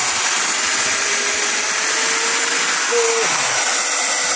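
A power polisher runs at full RPM on an aluminum pickup truck rim, giving a loud, steady, unbroken whir, with a single brief spoken word.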